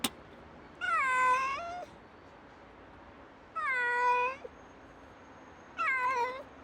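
A stray cat meows three times, each call drawn out and clear against a quiet background, with short pauses between them.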